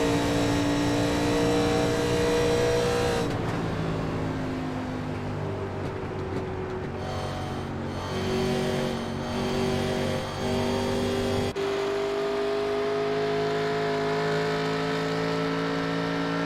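The number 12 Miller Lite race car of Colby Whipple, its engine note droning loud and close with steady harmonic tones that sag and climb again as it laps, with a brief off-throttle dip midway and no talk.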